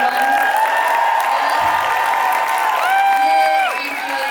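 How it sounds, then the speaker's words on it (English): Audience applause and cheering at the close of a live podcast show fill the space, a loud steady clapping wash with whoops and excited voices mixed in. "Can we give it another round of applause for Ali Bolair?"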